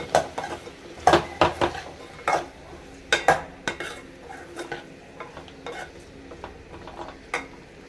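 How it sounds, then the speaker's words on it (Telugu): Prawns and drumsticks stirred together in a cooking pot, with a spoon clanking and scraping against the metal in irregular strokes over a faint low sizzle. "ఇప్పుడు ఇందులోకి రొయ్యలు మునక్కాడలు వేసుకొని బాగా కలుపుకోవాలి"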